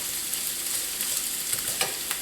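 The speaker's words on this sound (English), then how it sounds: "has been sizzling away. We're getting just a little bit of browning on it." Onions and celery sizzle in a pot with beef short ribs as they brown, giving a steady close frying hiss with a few soft stirring scrapes and no talk.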